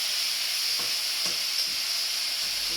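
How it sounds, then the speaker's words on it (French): Pork pieces fry in a high-sided pan, a constant loud sizzle with a few soft scrapes and taps as a spatula turns them. "Et avec ma spatule, je tourne mes morceaux."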